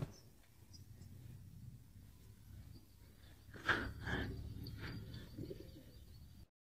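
Domestic pigeons cooing faintly in a loft, with soft low coos and a brief louder flutter midway over a quiet background.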